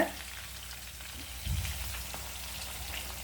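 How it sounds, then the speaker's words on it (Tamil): Marinated chicken pieces fry in hot oil with a steady, rain-like crackling sizzle that holds at an even level throughout, with a slight low bump partway through. "இதே மாதிரி நீங்கள் இப்போ ஊற வச்சுருக்க எல்லா சிக்கனையும் பொரிச்சு எடுத்துடலாம்"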